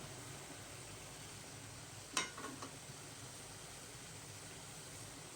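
Hilsa fish pieces go one by one into hot, well-fried spiced masala for a Bengali fish curry, raising a steady close frying hiss with a brief sharp crackle burst near the middle; no one speaks.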